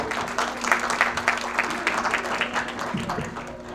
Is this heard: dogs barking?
no